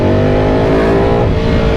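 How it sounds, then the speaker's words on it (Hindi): Ducati V4 motorcycle with an 1100cc, 216 bhp V4 engine running loud and close, a dense throbbing roar held steady with a slight pitch shift partway through, no voices. "तो guys this is 1100 CC 216 bhp bike, V4 engine."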